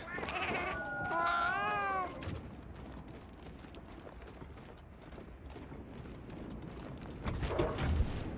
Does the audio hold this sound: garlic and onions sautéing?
no